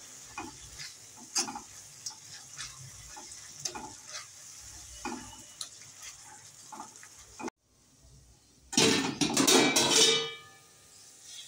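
Onion and tomato are stirred in butter over a medium gas flame for mushroom masala: a low sizzle under repeated scraping strokes, a brief near-silent gap, then a loud burst of stirring and frying.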